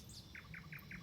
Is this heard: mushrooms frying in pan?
no